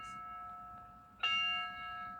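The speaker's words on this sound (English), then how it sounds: "The bell rings." A single bell struck once at a September 11 memorial ceremony for fallen firefighters, a clear ringing tone that sustains and slowly fades against a quiet background.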